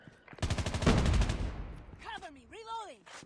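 A single loud gunshot-like blast in the mobile shooter Call of Duty Mobile rings out and fades, followed by a brief voice-like sound.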